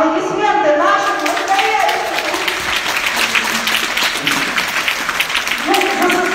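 Applause from an audience at an ambassador presentation swells and carries on steadily as a crowd of hands claps, with a voice heard over it at the start and end.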